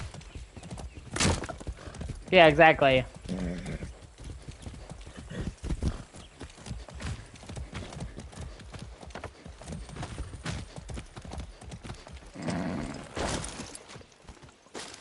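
A horse's hooves clip-clop steadily at a gallop while riding through Far Cry 6, with occasional neighs and whinnies; someone speaks briefly over the hoofbeats.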